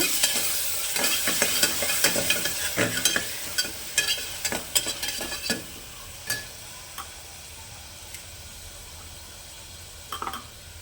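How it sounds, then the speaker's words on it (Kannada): Ginger garlic paste stirred in a frying pan for egg biryani, with rapid close spoon scrapes and clicks over a steady sizzle, thinning out toward the end. "ಶುಂಠಿ ಬೆಳ್ಳುಳ್ಳಿ ಪೇಸ್ಟು 1 ಸ್ಪೂನು, ಇದನ್ನು ಮಿಕ್ಸ್ ಮಾಡ್ಕೊಳ್ಳೋಣ."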